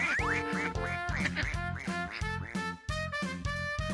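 Ducklings quack in a rapid, regular series of loud, close calls, with nearly a dozen nasal bursts in quick succession and brief pauses between them.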